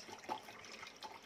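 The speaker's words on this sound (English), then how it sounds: "Just make sure that when you put the water, you put it from here" Water pours into a ZeroWater purifier pitcher, a soft trickling splash with faint bursts, quiet and heard alone.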